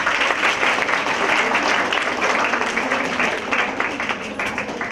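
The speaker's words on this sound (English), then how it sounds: "Please give yourself a big round of applause." A college hall audience at a women's safety campaign event gives a big round of applause, dense and loud clapping sustained throughout and easing only slightly near the end.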